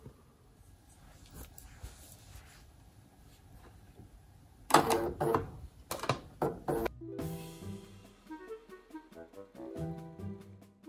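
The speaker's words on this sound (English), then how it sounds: "now we're taking this over to the sewing machine, and we're going to sew on the left and the right." A short burst of rapid mechanical stitching from a sewing machine sewing a small tote bag clatters for a couple of seconds, then gives way to background music.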